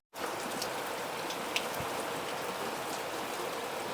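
Steady heavy rain falls continuously, a dense close hiss of drops on surfaces with occasional louder individual splashes and no talking.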